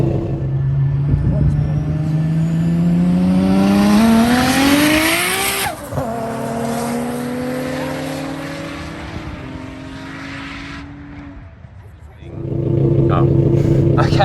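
Race cars launch in a drag race, engines rising to a loud rev, then a sharp shift and a long, steady roar that fades before another loud surge at the end.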